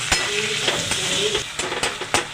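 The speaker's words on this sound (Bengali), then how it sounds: "পেঁয়াজটা ভাজতে ভাজতে আদা রসুন বাটাটাও দিয়ে দেবো। একসাথে করে ভাজতে থাকবো।" Chopped onion with ginger-garlic paste frying and being stirred in a pan for a Bengali fish-bone dish, a steady close sizzle with scraping stir strokes recurring through it, no talk.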